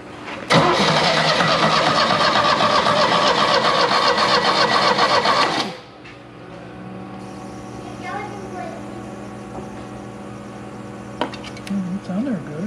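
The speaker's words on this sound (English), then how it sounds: "he's gonna start the car" A long-abandoned 1975 Chevy Vega Cosworth twin cam cranks loudly and rapidly for about five seconds, then stops, leaving a quiet shop with people talking nearby.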